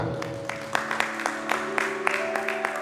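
Worshippers clap for God during a Sunday service while sustained music tones play underneath, the applause loose and uneven with distinct strong claps scattered through.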